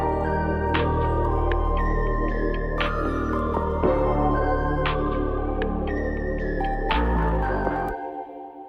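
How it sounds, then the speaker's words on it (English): Percussion loop from a Kave drum kit, used under R&B melodies: steady bouncy layered percussive hits with tonal bell-like accents, playing continuously for several seconds before stopping abruptly near the end. "first I'm gonna show you the perk loop that I got out of this Kave drum kit"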